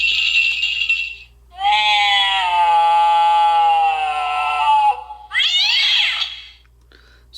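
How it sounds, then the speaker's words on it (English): Loud electronic cat meows from a haunted Halloween doorbell prop, a short yowl, then a long drawn-out wailing meow and a final rising meow, played back alone. "Miss Kitty Clawbottom, and this is where it really shows its sound. It's really loud with this one"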